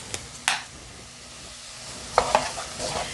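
Spices such as nutmeg and cinnamon are dropped into hot oil and give a low steady sizzle with a few sharp clinks or scrapes, close by and with no talking.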